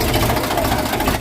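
A tractor engine runs steadily and close by, a continuous low mechanical rumble at even loudness that cuts off abruptly at the end.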